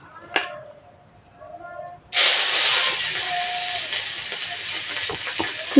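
Crushed garlic hits hot oil with a sudden loud, bright sizzle that keeps hissing steadily, after a few light clinks and a voice.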